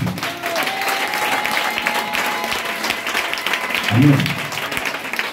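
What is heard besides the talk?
audience applauding and cheering for God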